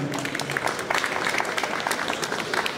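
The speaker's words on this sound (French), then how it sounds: "On peut les applaudir, voilà, merci beaucoup." Audience members at a drone festival conference in Nantes applaud the presenters, a short burst of brisk, fairly close clapping from a modest crowd.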